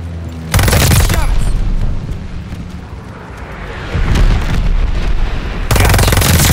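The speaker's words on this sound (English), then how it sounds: "Cover your heads. Enemy bombers." Enemy bombers strike in Call of Duty: Vanguard: heavy booming blasts and dense gunfire roar loud and close, with a mid-clip lull before a second wave of detonations hits.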